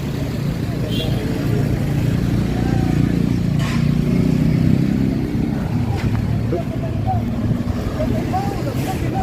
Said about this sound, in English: I'm gonna wait for traffic so I don't get run over